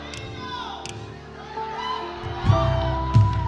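A church congregation cheers and shouts in a lively crowd roar, with a couple of louder bursts of shouting and clapping near the end.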